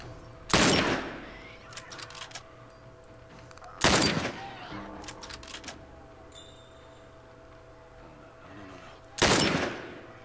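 Gunfire from The Last of Us Remastered: three loud, sharp shots spaced several seconds apart, each with a short decaying tail, set against a quiet ambient game background with faint scattered clicks between them.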